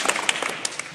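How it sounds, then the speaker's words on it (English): A crowd applauds the finalists at a Michigan high school football player of the year ceremony, with brief, dense clapping that stays steady and moderately loud throughout. "I think we owe all of our finalists a round of applause."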